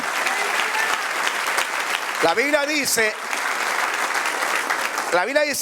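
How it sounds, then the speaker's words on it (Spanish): A church congregation gives a round of applause during a sermon, a steady wash of many hands clapping from across the room, with a preacher speaking over it. "Dale un aplauso así."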